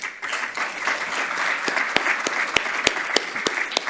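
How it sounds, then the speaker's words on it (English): An audience at an evening talk applauds, a dense wash of many hands clapping, steady and moderately loud, with a few sharper nearby claps standing out. "I'll join in the clapping because you're not clapping for me."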